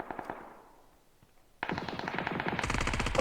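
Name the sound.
gunfire from a gun in the video game PUBG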